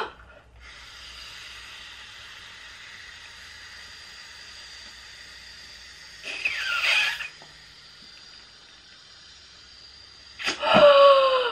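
Someone inflating an inflatable unicorn by mouth: a long, faint steady airy blow followed by two louder, short breathy gasps and puffs, close to the mic with no talking.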